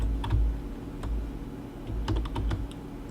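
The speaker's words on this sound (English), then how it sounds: "I have a mechanical keyboard." Keystrokes on a mechanical keyboard, sparse clicky taps in small bursts over a low steady background hum, close and fairly quiet, with no voices.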